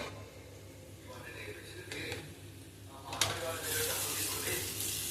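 Rice tipped into a hot pan hisses up into a loud, sustained sizzle partway through, rising sharply out of quieter background frying while a voice talks.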